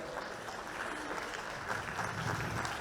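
Faint, distant applause from a keynote audience, a soft and even wash of clapping heard from far off.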